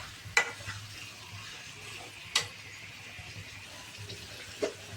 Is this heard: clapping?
no